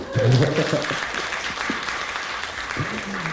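Audience applause at a talk on a young entrepreneur's venture, a steady wash of clapping with a voice speaking over the start and briefly again near the end.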